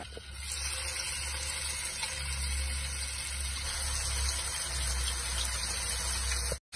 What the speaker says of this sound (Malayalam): ചെമ്മീൻ മക്രോണിക്ക് വേണ്ടിയിട്ടുള്ള ചെമ്മീൻ ഫ്രൈ ആക്കാനിടാം അതിന് വേണ്ടിയിട്ട് ഒരു മൂന്ന് സ്പൂണ് കോക്കനട്ട് ഓയിൽ ഒഴിക്കാം